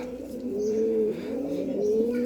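A pigeon coos close by, a low throaty rolling call repeated twice in smooth, sustained phrases with soft background ambience.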